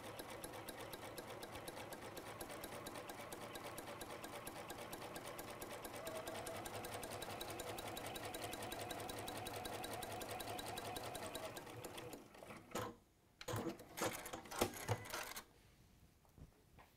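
A sewing machine runs a fabric seam in one long, steady, even whir for about twelve seconds, then stops, followed by a few clicks and handling knocks.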